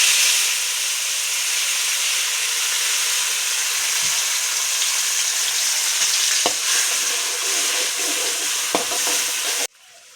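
Ground masala paste hits hot oil in a pan with a loud, steady sizzle and hiss, and a few scrapes of stirring, cutting off abruptly at the end.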